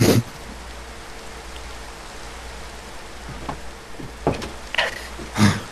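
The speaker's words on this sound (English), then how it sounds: "so the rain doesn't get me" Steady rain falling in the blocky survival video game Minecraft, a soft continuous hiss that runs throughout, with a few brief clicks and knocks rising above it near the end.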